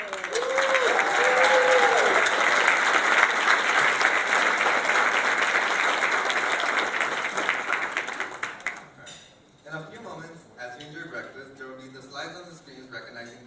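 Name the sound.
round of applause for board members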